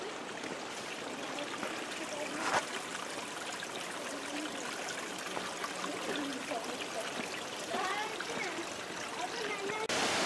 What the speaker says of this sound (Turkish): Bakın su seslerini duyabiliyor musunuz?